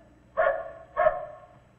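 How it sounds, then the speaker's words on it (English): A dog outside on a country road at night barks twice, in two short, evenly spaced woofs of moderate loudness, against an otherwise quiet background. "David, there's that dog again"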